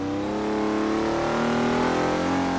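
Engine of a Mercedes 280 SL racing in Forza 6, a loud, steady mid-pitched drone that climbs gradually in pitch as the car accelerates, heard alone and close.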